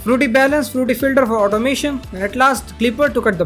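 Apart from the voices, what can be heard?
No distinct noise like a dog, phone or traffic.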